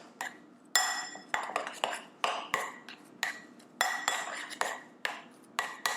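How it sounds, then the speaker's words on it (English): Garlic mashed potatoes are mixed in a bowl with a utensil. It makes a rhythmic run of clinking, scraping strokes about twice a second, close and fairly loud. No one speaks. "So give it a good mix."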